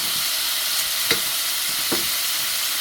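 Beef neck bone cooks in a pot with water, giving a steady close sizzle and bubbling hiss throughout, with a couple of soft stirring scrapes and no talking.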